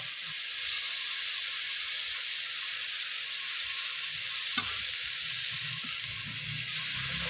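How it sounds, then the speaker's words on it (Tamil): Onion and tomato sauté in a pan, a loud continuous sizzle with steamy hiss and an occasional stir or clack of the spoon, steady throughout without voices. "அந்த ஆனியனை இது கூட சேர்த்து வதக்கிக்கலாம். தக்காளி சேர்த்துக்கலாம்."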